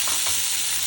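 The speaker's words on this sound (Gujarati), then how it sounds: "સાંતળી દેવાની આવી રીતના." Onion, tomato and chilli sautéing with cumin in hot oil in a pan give a brief, steady, close sizzle with a soft stirring texture throughout.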